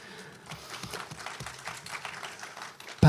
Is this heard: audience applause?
yes